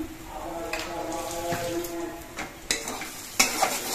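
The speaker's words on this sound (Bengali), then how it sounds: "নুন দিয়ে নেড়ে চেড়ে মিশিয়ে নিতে হবে" A spoon stirs spice masala with salt in a pan, making irregular scraping strokes over a steady low sizzle, with a few sharper scrapes near the end.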